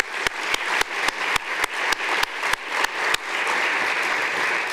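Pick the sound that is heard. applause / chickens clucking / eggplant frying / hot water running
applause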